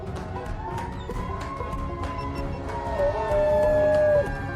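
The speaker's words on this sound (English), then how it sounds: "Who needs a siren when your Dutch Shepherd can howl just as loud?" A Dutch Shepherd dog howls in long, wavering tonal wails that rise and fall like a siren, with a louder sustained stretch near the end and faint clicks in the background.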